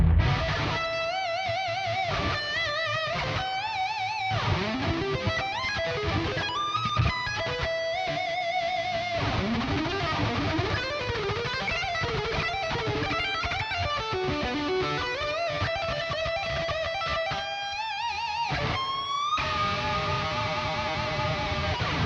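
An electric guitar through an overdrive pedal plays a sustained lead with bends and fast runs, thick and distorted throughout.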